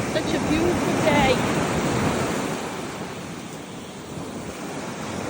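Ocean surf on a Florida beach, a broad continuous wash of waves with wind rushing across the microphone, loudest early and then easing slightly, with no clear voices.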